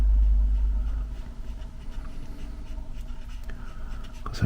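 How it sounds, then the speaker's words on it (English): An eraser rubs out a pencil line on a handmade watercolor birthday card, a steady scratchy scrubbing close up over a low background rumble, with no talk. "I think I'm going to erase that pencil line."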